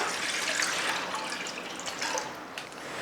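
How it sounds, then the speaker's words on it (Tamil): Hot water splashes steadily into a pot being readied to boil cauliflower, a close, continuous hissing pour with a light watery trickle and no voices. "அதுக்கு முதல்ல கொஞ்சம் சுடு தண்ணி போட்டுடலாம்."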